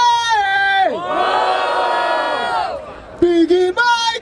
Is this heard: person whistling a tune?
no